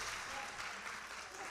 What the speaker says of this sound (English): Can we give God a hand clap of praise for allowing us to gather in this space